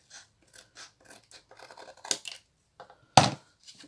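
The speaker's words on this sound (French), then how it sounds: "Je vais prendre un ciseau et je vais venir couper le surplus." Scissors trim the excess material off a Christmas box being embellished: a series of short, close snips, ending in one louder, crisper cut, with no one talking.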